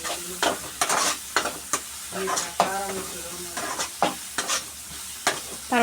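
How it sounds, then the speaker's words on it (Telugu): A ladle stirs curry with turmeric in a pan. It gives repeated scraping and clinking strokes in an uneven rhythm over a soft frying sizzle, close and fairly loud, with no voices. "పసుపు వేసుకున్నాక గరిటెతో కలియబెడతారనమాట మొత్తం."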